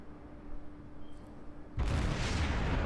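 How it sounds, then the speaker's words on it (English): A Pensacola cruiser's main guns fire armour-piercing shells in World of Warships, with a low hum breaking into a single heavy boom that swells into a sustained, roaring rumble. "Flinging AP shells out there"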